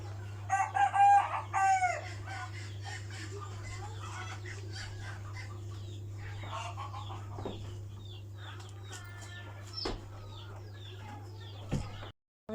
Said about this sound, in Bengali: আমি মুরগিগুলো ধরে দিছিলাম। আমাদের খামারে তো আমি কাজ করি।